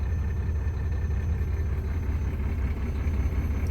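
A car engine idles roughly with one cylinder's fuel injector switched off, giving a close, steady low rumble that drones on without a break and with no talk over it.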